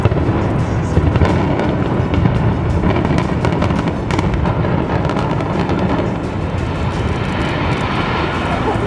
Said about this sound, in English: with a series of carefully timed explosions, the Children's Healthcare of Atlanta building was brought down